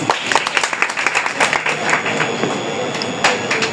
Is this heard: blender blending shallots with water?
no